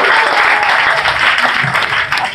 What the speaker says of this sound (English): Please give Colin Christopher a round of applause